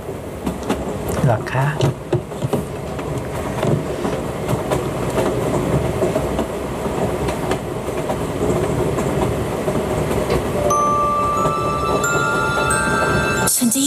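A passenger train rolls along its rails with steady, loud wheel rumble and rhythmic clatter that fills the whole stretch, while someone speaks briefly over it.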